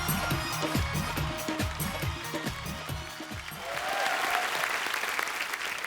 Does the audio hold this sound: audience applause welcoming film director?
yes